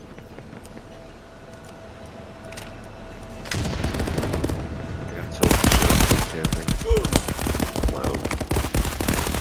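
Gunfire in a shooter video game starts quietly, then erupts into loud, rapid automatic bursts that rattle on to the end, while a player briefly exclaims.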